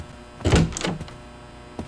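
A door opens in a horror video game with a heavy mechanical thunk and scrape lasting about half a second, fairly close, followed by a fainter knock near the end.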